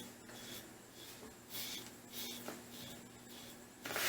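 Safety razor fitted with a Feather blade scraping across skin lathered with Edwin Jagger sandalwood shaving cream, a run of close, quiet raspy strokes repeating in short bursts with brief pauses between them.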